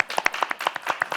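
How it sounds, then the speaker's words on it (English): A small meeting audience gives a brief round of applause, a handful of distinct, sharp hand claps in an irregular patter, close and fairly crisp. "I think unusually we should give them a round of applause"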